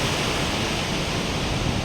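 At Perunthenaruvi waterfall, heavy rain-fed water crashes over rocks, making a steady, dense roar from nearby with a slight windy rumble and no speech.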